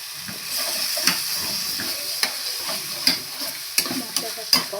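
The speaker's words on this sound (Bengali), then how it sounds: "মশলাটাকে কষাতে হবে। ঠিক করে না কষালে কাঁচা গন্ধ থেকে যাবে।" A spice paste for raw banana kofta curry sizzles in a hot pan as it is stir-fried, a steady close hiss broken by several scraping stirs and clinks of the spatula.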